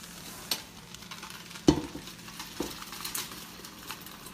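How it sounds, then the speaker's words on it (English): Beef stroganoff is stirred together in a pan, giving soft scraping strokes and a few clinks over a faint sizzle, close by and fairly quiet. "Okay, we just stir it together."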